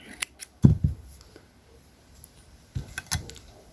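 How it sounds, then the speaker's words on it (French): Scissors snip through crochet yarn up close, a few sharp, distinct clicks in two small bursts separated by a quiet gap, with no talking. "Je fais une maille et je coupe le fil."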